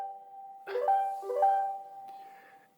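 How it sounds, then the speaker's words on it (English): A mobile phone rings with a bright melodic ringtone, a short run of clear chiming tones that rise and fall, heard alone and fairly close before fading out. "that was my phone ringing"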